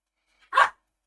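A dog gives a single sharp, close bark after a faint short yip, then silence.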